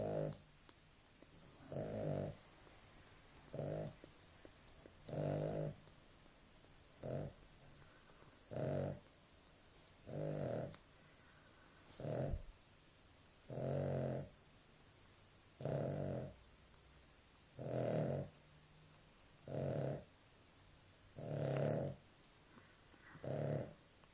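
Dog snoring steadily, about a dozen evenly spaced rasping breaths in slow rhythm, fairly quiet and close, with no talking.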